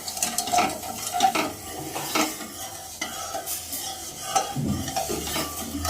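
Sugar syrup stirred in a pan on the stove, with repeated close scraping and clinking strokes of a spoon over a soft simmering sizzle.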